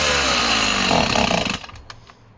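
Vintage 1960s saw engine starving of fuel, its loud buzzing two-stroke run sputters and cuts out after a second and a half, leaving a faint low tail.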